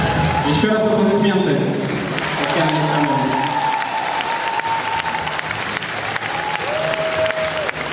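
An awards ceremony audience applauds in a dense, steady burst of clapping that fills the hall throughout, with someone speaking over it through a microphone.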